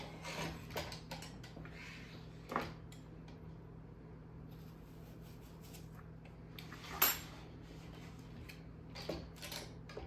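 A hand-cranked apple peeler corer turns with soft ratcheting clicks and metallic ticks, plus a few sharper clacks over a low steady hum, close and fairly quiet.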